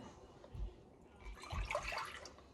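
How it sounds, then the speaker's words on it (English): Water is poured into a bowl of tallow, giving a soft, close splashing and trickling that swells in two short bursts. "Pour our water into our tallow."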